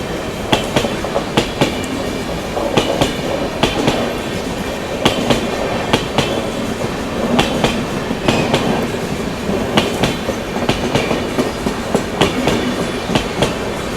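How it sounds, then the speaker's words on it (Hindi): A Mumbai local train runs on the tracks with a loud, steady rumble and a repeating clickety-clack of wheels over rail joints, heard from inside or very near the carriage, with no talking. "वैसे तो लोकल ऑन टाइम चल रही है, इवन बिफोर टाइम चल रही है"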